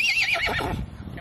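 A pony gives one close, loud, shrill whinny that falls away in pitch over about a second.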